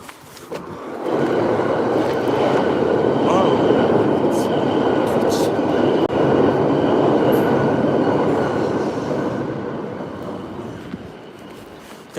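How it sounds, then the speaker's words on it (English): A Deutsche Bahn Stadler KISS train rolls across a bridge directly overhead in Zurich, a loud, steady rumble with rail clatter that builds, holds for about ten seconds, then fades. "The train that just passed above us was the Deutsche Bahn Kiss, Stadler Kiss"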